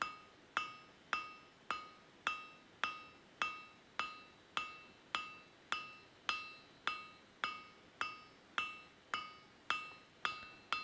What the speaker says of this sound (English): slow, overlapping hammer blows in order to ensure a nice, crisp, clean finish